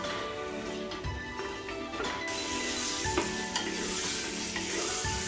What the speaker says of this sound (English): fry the tomatoes on high flame until the tomatoes are melted properly